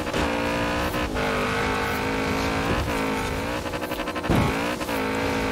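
A heavily tuned Lamborghini Urus in off-road trim roars in Forza Horizon 4, its engine droning steadily with gear shifts and brief tire noise, loud and continuous with no talking.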